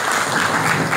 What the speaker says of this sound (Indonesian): itu justru tepuk tangan sekali lagi kepada Bu